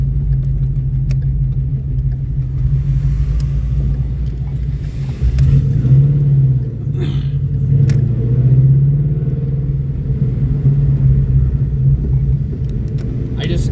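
Steady low engine rumble and road noise inside a moving car, heard from the passenger seat, with the motor swelling briefly as it revs mid-way; voices chatter faintly underneath.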